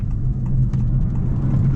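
A 2026 Honda Civic Hybrid hatchback with an eCVT working under load, heard from inside as a constant muffled low drone of engine and road noise, steady and moderately loud with no talking.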